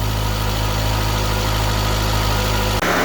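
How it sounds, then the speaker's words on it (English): A 2017 Jeep Cherokee engine idles while warming up, giving a steady, loud, even drone heard up close that shifts abruptly just before the end. "I went ahead and let the engine warm up to as warm as I can get it to warm up"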